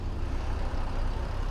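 A Peterbilt 389 truck hauling a Polar tanker in American Truck Simulator idles at night as it is put into gear, giving off a low, steady diesel rumble that stays fairly quiet and even throughout.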